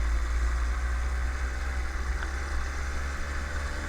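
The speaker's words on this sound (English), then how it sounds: "Let the engine warm up." A petrol engine on a motorised bicycle idles just after starting, a steady, loud low rumble with a constant throb and no other sounds.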